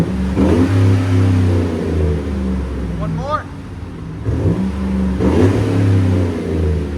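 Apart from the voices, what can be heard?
V8 pickup truck exhaust revving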